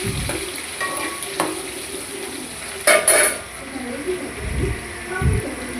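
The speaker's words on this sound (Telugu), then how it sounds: "కరివేపాకు ఉల్లిగడ్డ మంచిగా ఫ్రై చేసుకోండి" Chopped onion and curry leaves fry in a pan for a vegetable curry, a steady close sizzle broken by a few sharp utensil clinks and stirring scrapes, with some talk over it.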